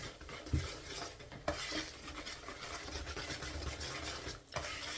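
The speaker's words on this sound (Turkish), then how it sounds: "Sütle çırpacağım." Banana pudding mix is whisked with milk and corn starch in a bowl. The scraping, swishing strokes are continuous and close, with a couple of sharper knocks against the bowl.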